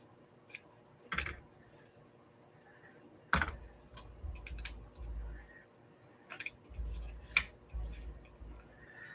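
Scissors cutting craft material, a few sharp close snips with soft handling thumps and clicks between them, quiet and sparse with no talking.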